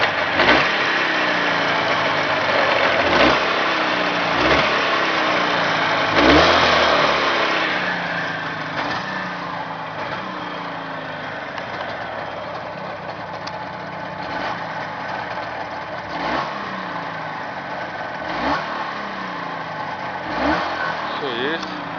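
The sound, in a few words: Jawa 638 motorcycle engine running and revving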